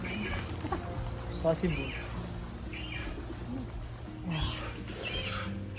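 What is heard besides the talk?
pigeons cooing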